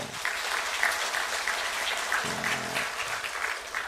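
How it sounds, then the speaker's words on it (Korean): A church congregation claps together at an evening revival service, a steady dense patter of many hands filling the room while a few voices murmur underneath. "박수 한번 쳐주세요."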